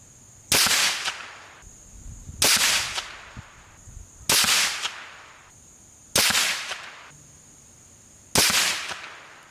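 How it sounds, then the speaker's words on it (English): Five rifle shots fired through a Nightforce ATACR 1-8x24 scope, loud sharp cracks spaced about two seconds apart, each with a short outdoor echo tail. "So the first thing I do is fire a 5-round group for the control to see where I'm hitting, where my zero's at."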